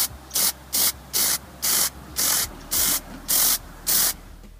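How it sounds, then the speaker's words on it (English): A spray can of rubber coating hisses in nine short, evenly spaced bursts, close and fairly loud, with no talk. "Now I've got the spray rubber, and we're just going to put on several nice light coats until it's evenly coated there."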